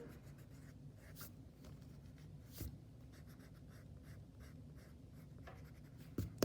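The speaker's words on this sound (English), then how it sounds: "Just gonna go through and erase out some of these additional lines that I don't really need." A pencil scratches and an eraser rubs across paper while refining a face drawing: close, soft, continuous strokes with a few sharper scrapes, no voices.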